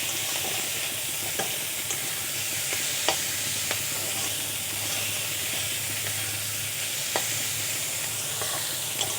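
A tomato and chilli masala for macaroni pasta fries in a pan with a continuous, even sizzle, punctuated by occasional sharp spatula taps against the metal as it is stirred.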